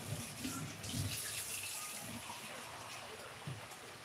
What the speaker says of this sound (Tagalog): So, lagyan natin ng tubig para maluto.